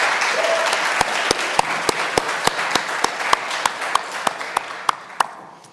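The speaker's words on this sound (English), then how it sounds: "And we should also please give a hand of applause to Dr. Alex Rice" Steady applause from a crowd at an honors conference prize ceremony, with a few sharper individual claps standing out near the end as it gradually fades.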